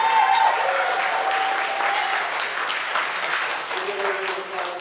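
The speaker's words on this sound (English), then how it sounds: "Give yourselves a round of applause." Convention audience at a fan gathering breaks into steady, full applause, many hands clapping in a thick wash that holds for several seconds with scattered cheers and voices underneath.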